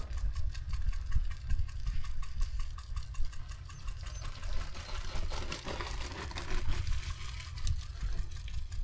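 An irrigation pump engine runs steadily to feed rainbird sprinklers on a sweet corn field, a continuous low rumbling idle with a rhythmic knocking pulse and a faint watery hiss, close and fairly loud.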